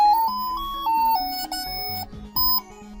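Electronic beeping melody from a handheld electronic game, a sequence of square-wave tones stepping between pitches with short pauses, loud and close with no voices.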